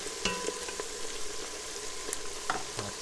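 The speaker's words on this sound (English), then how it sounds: "try and deglaze this a little bit" Pan sizzling steadily while fond is deglazed for turkey stock, a soft continuous frying hiss with occasional scraping and clinking of a utensil against the pan.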